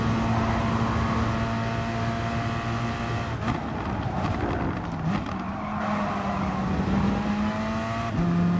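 GT race cars, a Porsche and a Corvette among them, scream with steady high engine tones and shifting revs as they battle closely in Gran Turismo Sport, a continuous dense roar without speech.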